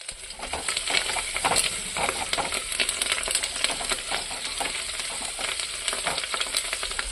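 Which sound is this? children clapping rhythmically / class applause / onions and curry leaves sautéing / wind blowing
onions and curry leaves sautéing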